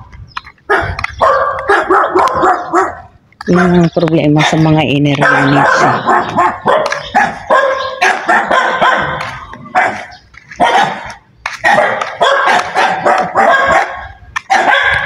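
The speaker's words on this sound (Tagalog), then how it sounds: "Yan, may aso rin dito." A dog barks outdoors near houses under construction in a residential subdivision, a few short yelps and barks mixed in with someone talking nearby.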